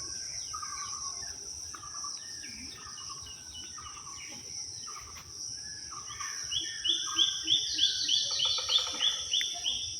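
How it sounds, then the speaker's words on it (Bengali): Morning birdsong in a Barisal village, Bangladesh: a steady high insect-like trill underlies repeated chirps and tweets, rising into a louder rhythmic run of calls near the end. "সকালবেলা পাখির আওয়াজ।"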